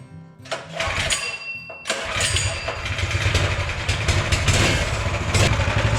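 A minibike's small engine, fueled with camp stove fuel, is heard turning over and catching after a brief quiet pause, then running steadily at a close, loud idle.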